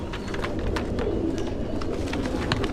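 Several pigeons coo and murmur together nonstop, a dense low burble with scattered wing flutters and clicks from a crowded flock close by.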